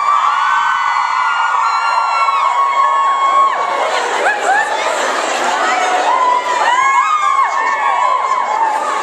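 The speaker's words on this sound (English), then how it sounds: "And they're starting to scream." A crowd of schoolgirls at a girls' high school screams and cheers continuously, high-pitched overlapping shrieks and whoops filling the whole stretch, loud and close.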